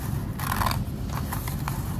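Scissors snip through a sheet of newspaper along drawn lines, a quick run of close, crisp cutting strokes with paper rustling, loud and alone.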